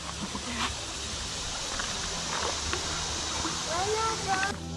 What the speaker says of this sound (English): You hear that flowing water?